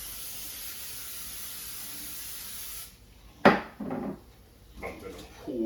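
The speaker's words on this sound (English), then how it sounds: "I'm going to spray it with cooking oil." Cooking oil sprayed into a baking dish during mac and cheese prep: a steady, even hiss runs for a few seconds, then stops, followed by a sharp knock and some light clatter of the dish.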